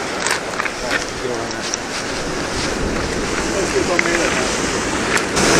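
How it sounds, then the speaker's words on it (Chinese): Strong wind on a Taiwanese shore during shore jigging gives a loud, continuous rush with microphone buffeting and surf-like hiss, steady throughout with brief gusty peaks. "外面风很大"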